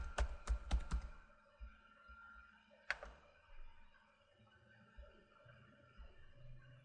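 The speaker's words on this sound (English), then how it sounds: "click inside our console and type our top secret password" Password typed on a computer keyboard while setting up a virtual machine: a quick burst of clicky keystrokes, a pause, then one sharp key press and a few soft thunks, close and alone.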